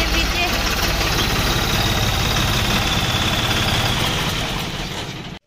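A New Holland tractor idles close by with a loud, steady low rumble and chug that holds evenly before cutting off abruptly at the end.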